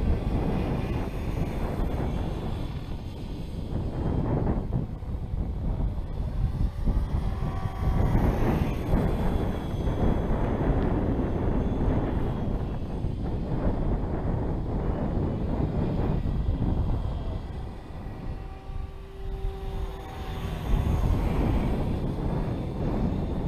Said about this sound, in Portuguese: E o vento tá brabo, hein?